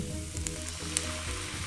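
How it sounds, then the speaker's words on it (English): Steady frying sizzle of eggplant in a hot pan, continuous and close, with a low hum running underneath. "you hear the sizzling sound?"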